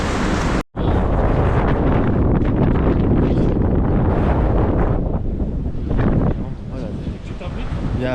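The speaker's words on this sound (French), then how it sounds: "Il y a un vent de fou." Strong wind on a mountain at Bugarach roars and buffets the microphone continuously, a dense, loud rush with brief gusty swells and one short dropout early on.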